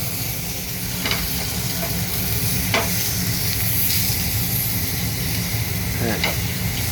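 Food fries in hot oil in a pan, a loud continuous sizzle and hiss with occasional scraping strokes of a stirring utensil, while a person talks quietly in the background.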